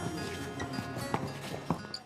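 Horses and Cotentin donkeys shuffle and jostle while being fed carrots, their hooves clopping irregularly on the ground with a couple of sharper knocks, close by, among low background noise.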